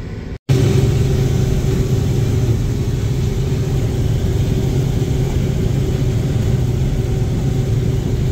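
A John Deere combine unloads soybeans into a SAME tractor's cart in a soft field, its engine a steady, loud, close droning rumble that holds unbroken after a brief dropout at the start, with no voices.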